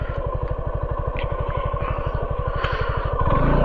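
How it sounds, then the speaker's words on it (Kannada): An off-road motorbike on a rough, rocky trail up Bilikal Ranganath Swamy Betta off Kanakapura Road near Bengaluru, its engine a close, rapid, even thumping that grows louder near the end. "ಪರ್ಫೆಕ್ಟ್ ಆಫ್ ರೋಡರ್ ಬೈಕ್ ದೋಸ್ತ್."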